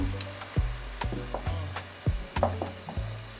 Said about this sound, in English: And then I must stir the kakra.